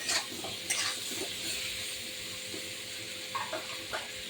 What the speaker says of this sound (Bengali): নেড়ে চেড়ে সুন্দর করে কচুর জলটাকে একটু টেনে নেবো আমি